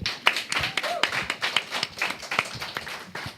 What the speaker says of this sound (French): s'il vous plaît, des applaudissements.